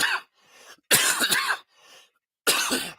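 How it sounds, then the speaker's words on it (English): Three harsh, close coughs burst out in quick succession, each loud and raspy, separated by short quiet breaths. "Still got a bit of that cough after 2 weeks"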